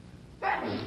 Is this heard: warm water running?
no